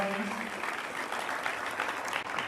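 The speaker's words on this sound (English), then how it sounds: "So give them a round of applause real quick" Students, families and staff at a National Letter of Intent signing day celebration for the class of 2021 give a brisk round of applause, steady and fairly close, with a voice trailing off at the very start.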